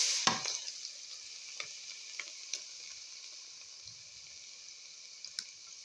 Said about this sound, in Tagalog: Oil is already hot. Now we can put now this garlics.